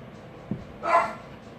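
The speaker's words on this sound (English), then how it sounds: "Sorry, my dog. Someone's at the door." A little Shih Tzu barks at someone at the door: a faint low yip, then one louder, sharper bark a moment later, heard indoors at moderate distance with no talk over it.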